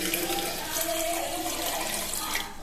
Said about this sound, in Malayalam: അപ്പൊ ഞാൻ കുറച്ച് വെള്ളം ഒഴിച്ചു കൊടുക്കുകയാണേ